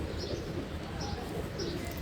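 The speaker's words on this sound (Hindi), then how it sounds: "बड़ा पसंदीदा कबूतर है ये मेरा" Loft pigeons coo in soft, repeated low murmurs, close by, with faint chirps over a steady background hum.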